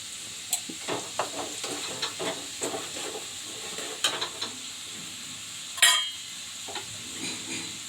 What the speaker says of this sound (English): Let the onion fry now.